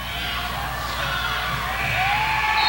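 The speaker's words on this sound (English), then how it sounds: "you're hearing the Start the Bus cheer by the NU fans" Fans at a high school girls' basketball game keep up a loud crowd chant with shouts and whoops, an unbroken wall of voices echoing through the gym.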